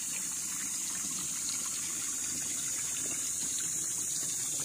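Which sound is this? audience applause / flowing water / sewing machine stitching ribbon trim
flowing water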